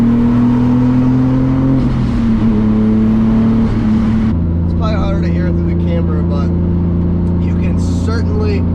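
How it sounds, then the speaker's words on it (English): Continuous low engine rumble from a turbocharged 500 hp BMW E34 with an M50 engine while driving, steady drone with a shift in tone partway through. "definitely hear the rumble of the car the entire time you're driving"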